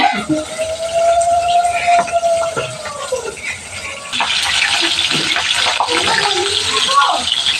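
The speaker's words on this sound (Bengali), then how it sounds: "ওইদিকে পাঁচ ফোড়ন দিয়ে সবজিটা ফেলে দিয়েছি" Vegetables hit hot oil tempered with five-spice in a home kitchen, a loud rushing sizzle that swells midway and holds steady, with a voice talking over the frying.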